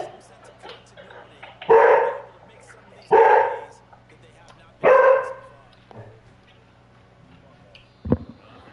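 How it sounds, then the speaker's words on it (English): A dog barks in a room: three loud, separated barks about 1.5 seconds apart, then a quieter yelp and a sharp final bark, over a low steady hum. "I'm sick of this fucking dog"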